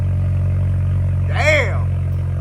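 A 2.3L Ford Bronco with an SPE Motorsport axle-back exhaust idles in a steady, deep, close rumble, while a person lets out a brief excited vocal exclamation over it.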